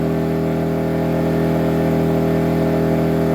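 A Bilt Hard TGA-0251 inverter generator, rated at 1800 watts, runs at full load with economy mode off, and its engine holds a loud, steady, high-revving hum with no change in pitch the whole way through, heard alone and close.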